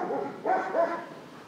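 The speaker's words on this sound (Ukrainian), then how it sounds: "Вівчарку Чокі кінолог готує на заміну своєї іншої службової собаки" A police service shepherd dog being trained at a canine unit gives two close, gruff barks in quick succession, with a low whine between them.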